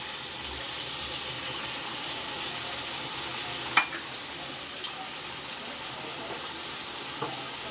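Duck sizzles steadily in hot oil in a home kitchen pan, a constant close frying hiss with a single sharp utensil clink midway and faint stirring scrapes.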